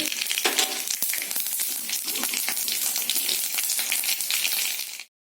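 Whole mustard seeds and dried red chilli frying in mustard oil in a kadai: a loud, dense crackling sizzle with sharp popping spits, running steadily close up until it cuts off at the end.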